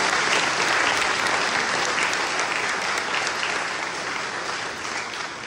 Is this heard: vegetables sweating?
no